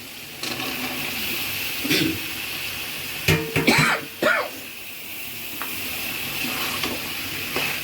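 Pointed gourd and potato pieces hit hot oil with a soft, steady hiss, while someone coughs and clears their throat close by midway through.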